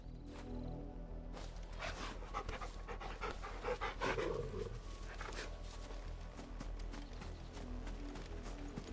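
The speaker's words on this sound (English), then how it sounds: "pet the dog." A dog pants in Final Fantasy 16 while it is petted, quick rhythmic breaths sounding faintly over a steady game ambience hum, with a brief brighter rustle midway.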